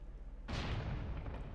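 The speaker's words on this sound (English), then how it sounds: "Explosions and things." A sudden loud explosive boom in The Wind Waker's Earth Temple bursts out after a brief quiet stretch, followed by a rumbling, crackling tail that lingers.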